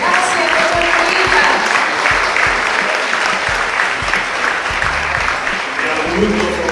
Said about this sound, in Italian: un applauso particolare al dottor Nalin